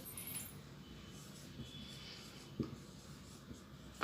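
Numbers are written on a board in a Hindi-language lesson, with faint, close scratching and rubbing strokes and occasional small taps, quiet and without talk during the writing.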